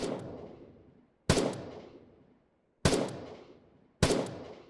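Three sharp, loud rifle gunshots in the video game Afterconflict ring out one at a time with pauses between, each blast trailing off in a long echoing decay.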